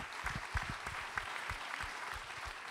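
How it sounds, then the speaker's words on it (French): A small audience claps, a brief scattered round of applause with uneven, close hand claps. "on peut l'applaudir."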